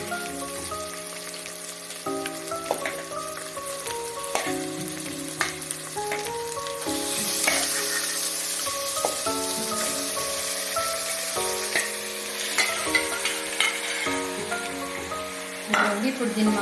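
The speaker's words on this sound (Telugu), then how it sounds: "ఇప్పుడు దీంట్లో మనం మ్యారినేట్ చేసి పెట్టుకున్న చికెన్ వేసుకుందాం" Marinated chicken dropped into ginger garlic paste in a pan, loud steady sizzling and crackling with clattering stirring, faint voices in the background at times.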